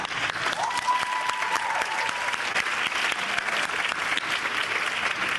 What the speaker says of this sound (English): I give applause.